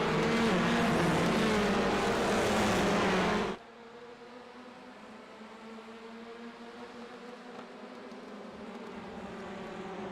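Race cars at the start of a race at Snetterton circuit: a loud, dense roar of many engines for about three seconds, then it drops abruptly to a fainter, steady drone of the field pulling away.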